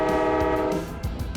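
A Cape Cod Central Railroad dinner train in Hyannis, Massachusetts sounds a loud, sustained horn chord that fades after about a second, with rumbling low-end rail and engine noise underneath.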